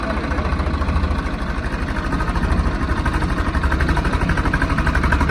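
A Swaraj 855 tractor engine idles nearby with a steady low rhythmic chugging throb that holds constant throughout.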